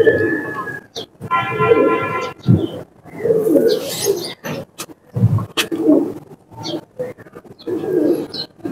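Teddy pigeons, a Salara Teddy male among them, cooing in low, throaty rolling calls at close range, interspersed with someone talking and a few sharp chirps.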